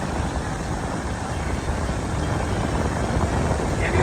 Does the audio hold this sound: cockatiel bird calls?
no